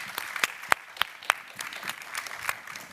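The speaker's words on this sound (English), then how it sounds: "a big round of applause to Nika and to Irina" A modest audience at a panel on game creation in Ukraine claps for the speakers, scattered individual claps popping out of a light, uneven patter that stays steady throughout.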